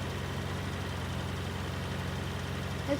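Small tractor working a field in the Alps, its engine running in a steady low chugging drone with an even pulse, moderately loud and unbroken, no voices.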